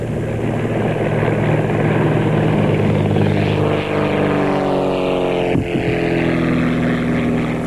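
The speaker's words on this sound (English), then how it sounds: "It creates a little bit of tension when you see the planes coming head on." Several propeller aircraft of the Tag Heuer aerobatic team fly past loud and near with a steady droning engine roar, harmonic whine bending in pitch as they pass overhead, including one sharp flyby about two-thirds through.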